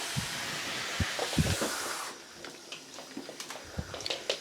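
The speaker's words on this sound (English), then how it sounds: "That is producing a lot of steam" Broad steady hiss of steam from a Moolan steam mop for about two seconds, then it cuts off, leaving quieter clicks and knocks.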